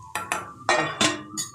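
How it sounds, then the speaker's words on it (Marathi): Spice mixture stirred in a pan with a metal spoon, several close, bright clinks and scrapes of utensil on metal in quick irregular succession. "आता पुन्हा हे सगळं मिश्रण ढवळून"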